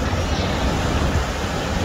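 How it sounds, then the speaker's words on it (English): High-tide ocean waves roll in against the rocks at Little Whale Cove on the Oregon coast, a dense, steady roar of surf with wind, loud and unbroken. "catching those waves coming in on the rocks"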